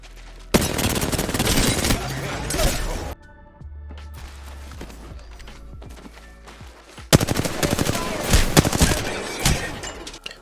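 Rapid automatic gunfire in Apex Legends as shots are poured into Mirage decoys: two loud, dense bursts with a quieter stretch of scattered shots and clinks between, no voices.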